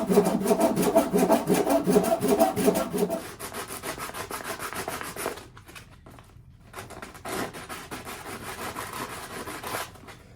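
Excess wood is trimmed off a new axe handle with steady, rhythmic rasping strokes, loud and close at first, then lighter and more sparse, with brief pauses before the scraping resumes.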